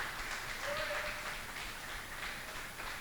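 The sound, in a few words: audience applause in church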